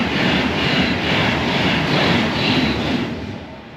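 A loud, steady rumbling roar of a train passing close by at Runcorn East station, with rhythmic clattering, fading slightly at the end.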